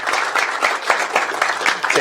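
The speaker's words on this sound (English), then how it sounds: "Let's give them one more round of applause." An audience applauds sixth-grade student performers at a school board of education meeting, a steady, fairly close wash of many hands clapping that holds through the whole stretch with a faint hum underneath.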